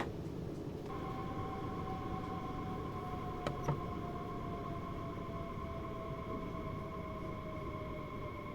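A Baureihe 363 shunting locomotive in Train Sim World 5 idles with a loud, steady diesel rumble and a sustained engine whine, broken by one brief metallic clank partway through.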